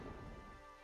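Steady rain with a low thunder rumble from the fantasy video game Dawn of Solestra, a dense, even wash of weather ambience filling the whole brief moment with no voices.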